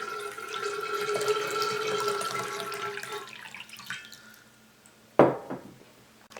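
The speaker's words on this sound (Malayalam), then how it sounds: "ആദ്യം ഇതിലേക്ക് കുറച്ച് വെള്ളം ഒഴിച്ചു കൊടുക്കുക." Water pours steadily into an uruli vessel for a few seconds, trickles off to quiet, then a sharp splash follows near the end.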